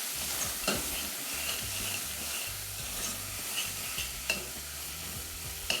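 Meat and vegetables coated in tomato paste and garlic are stirred in a hot pan, a steady sizzle with scraping strokes of the spoon, close and fairly quiet, with no talking.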